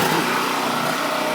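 A Champion generator engine runs steadily just after starting, giving a constant close, even motor drone with no talk over it.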